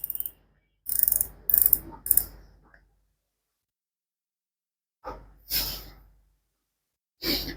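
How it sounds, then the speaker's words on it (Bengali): Drag of a large Tika brand fishing reel clicks in short bursts of rapid ratcheting, a few quick runs early on and then two more after a pause, close and crisp against silence. "সাউন্ডটা কিন্তু সেই ড্রাগের সাউন্ডটা।"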